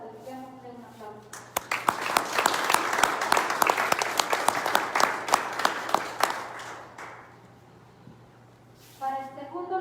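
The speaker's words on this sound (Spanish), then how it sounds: "dediquémosle un aplauso" An award-ceremony audience for a comic, graphic-novel and illustrated-story competition breaks into dense applause of many hands. It swells quickly, holds loud, then thins and fades, with a voice speaking before and after.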